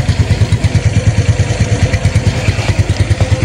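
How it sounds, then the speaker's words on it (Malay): A Honda Dash 125 FI motorcycle idles nearby, its engine and exhaust putting out a steady, even low putter with faint clatter, running alone with no talk. "Tapi bunyi motor ni masih sedap lagi."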